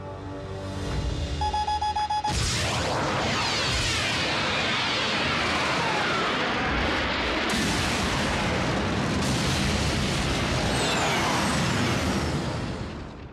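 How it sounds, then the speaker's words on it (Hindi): A huge cartoon blast of three tons of energon from the Transformers Prime animated series erupts after a brief electronic beeping, then roars on as a loud, sustained rumbling explosion with crackling debris for about eleven seconds, with no talking. "जब 3 टन का एनर्जॉन फटता है तो उसकी आवाज कैसी होती है"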